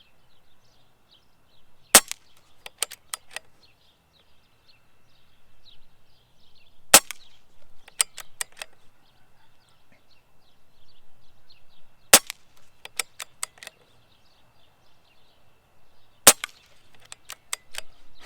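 Benjamin Marauder air rifle fired at a target 25 yards away: four sharp, close cracks spaced about five seconds apart, each followed by a quick cluster of light metallic clicks, with near silence between.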